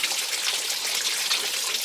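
Coolant from a loosened oil cooler splashes steadily into a catch pan, a continuous close trickle and patter with no pauses.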